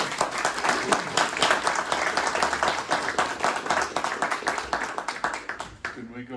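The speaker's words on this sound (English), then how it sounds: "My old pal, Alan Hebden. Give him a round of applause." Audience applause for comic writer Alan Hebden, a dense, steady round of clapping from a crowd that holds for several seconds before tapering off at the end.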